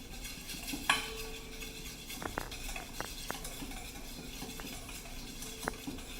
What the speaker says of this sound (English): Now at this point, we're gonna add the sugar and mix it slowly